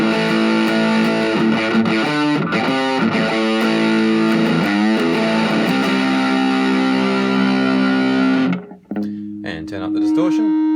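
An electric guitar played through a Boss MD-2 Mega Distortion pedal, with treble raised, rings out loud and saturated in chugging chords, then a held chord swells into sustained feedback after a brief drop.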